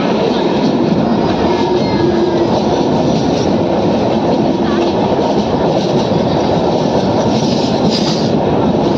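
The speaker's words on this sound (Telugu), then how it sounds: "ఇప్పుడు మనం రైలు రోడ్డు బ్రిడ్జ్ మీద అయితే వెళ్తాము" The Ratnachal Superfast Express crossing the rail-road bridge over the Godavari, a loud continuous rumble and rhythmic clatter of wheels on track heard from inside the train, with faint squeals above the steady roar.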